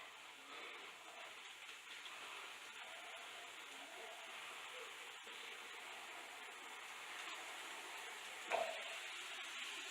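Water rinsing an apple cider vinegar rinse through hair locs, a steady close hiss and splash running throughout, with one brief louder knock near the end.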